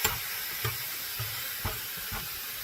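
Ground meat for a large batch of spaghetti meat sauce sizzles steadily in a pan, a constant hiss punctuated by regular soft scrapes and taps of a spatula breaking it up.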